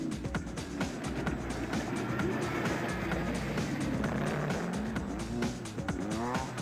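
Small cricket-class racing cars powered by motorcycle engines on a tight circuit, rapid buzzing engines revving up and down over constant crowd-like roar, moderately distant and continuous.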